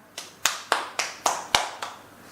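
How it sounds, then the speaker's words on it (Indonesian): A group of women at a village training session applauding, heard as about six crisp, evenly spaced claps in unison, fairly close and loud, with nothing else over them. "Oke, tepuk tangannya ibu-ibu ya."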